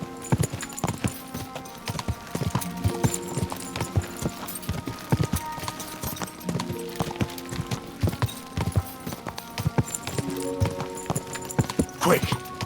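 Horse hooves clip-clop in a steady rhythm in the video game Kingdom Come: Deliverance 2, close and clear, with game sounds and occasional character speech alongside.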